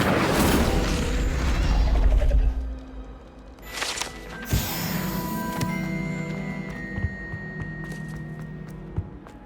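Incendio fire spell cast in Hogwarts Legacy, a loud burst of whooshing flame and crackle at the start followed by further sharp bangs, mechanical clicks and ringing tones as the effect fades, with no talking.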